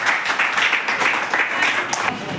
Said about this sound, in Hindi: जोरदार तालियां बजा दीजिए इनके लिए।